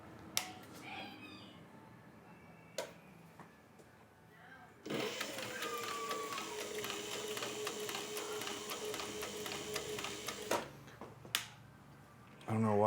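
A sewing machine stitching firefighter suspenders runs in a continuous whirring burst for several seconds, bracketed by sharp clicks and handling knocks before and after.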